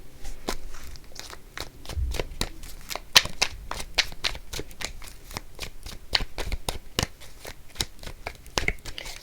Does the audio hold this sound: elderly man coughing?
no